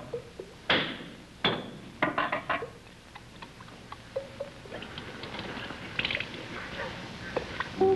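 Several sharp knocks strike plumbing in a quiet room, some loud and spaced apart early on, then lighter scattered taps and rattles follow.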